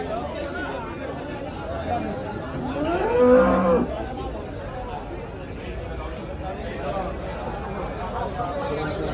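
Cattle at a village cow market, including Jersey and crossbred cows, with one loud, close moo rising and falling over a few seconds amid steady crowd chatter and someone talking.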